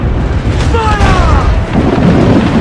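Heavy ship cannons fire in a naval battle in Assassin's Creed IV Black Flag, a loud booming barrage that rumbles continuously. Crew members shout over the blasts.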